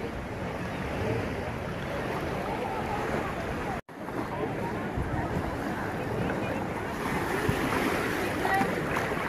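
Ocean surf breaking at a beach at Sauble, with steady wave wash and wind buffeting the microphone from close by, broken by a brief dropout; the person filming is in the water.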